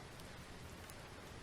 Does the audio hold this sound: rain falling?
yes